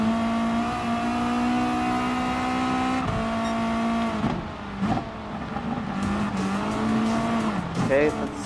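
The WRX Gr.B rally car in Gran Turismo Sport holds a steady, loud engine drone, then its tires squeal and the engine revs unevenly as the car slides left and right.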